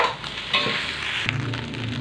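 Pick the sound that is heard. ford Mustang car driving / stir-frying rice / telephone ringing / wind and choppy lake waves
stir-frying rice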